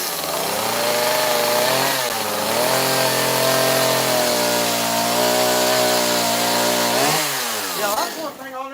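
A heavy chainsaw runs loud and close, its engine revving up and down in long swells and dipping as it bites, with a voice faintly underneath before the motor winds down at the end.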